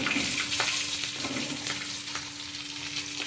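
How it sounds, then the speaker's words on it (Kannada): Three green chillies, following curry leaves, crackle in hot oil in a pan for a paneer dish, a close, steady sizzle with faint stirring and small pops throughout. "ಅಲ್ಲಿ ಮೆಣಸು ಹಾಕ್ತೀನಿ ನೋಡಿ ಮೆಣಸು ಮೆಣಸು ಮೂರು ತಗೊಂಡಿದ್ದೀನಿ ನಾನು ಗ್ರೀನ್ ಚಿಲ್ಲಿ ಹಸಿರು ಮೆಣಸಿನ್ಕಾಯಿ"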